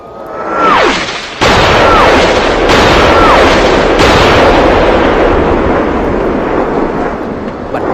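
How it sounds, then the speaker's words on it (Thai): Artillery shells fired by an American destroyer in a bombardment covering a marine landing on an island burst in loud, heavy booms, three big blasts about a second apart followed by a long rumbling roar, with whistling shells descending. "เสียงระเบิดจากกระสุนปืนใหญ่จากเรือพิฆาตอเมริกัน ที่ระดมยิงเปิดทางให้นาวิกโยธินยกพลขึ้นบกบนเกาะตัง ก็ดังสะเทือนเลื่อนลั่นขึ้นสามนัด"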